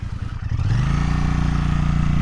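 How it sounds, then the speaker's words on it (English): A 2025 Royal Enfield Bear 650 motorcycle engine rises from a lumpy idle into a loud, steady throbbing single-exhaust note, close and sustained. "Oh, that single exhaust, it sounds really nice."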